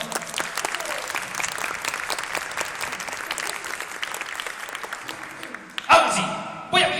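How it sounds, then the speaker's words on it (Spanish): Sustained audience applause fills a science show hall, dense steady clapping that thins out near the end, followed by a few louder bursts of voices or sounds. "Un aplauso para introducirla, por favor."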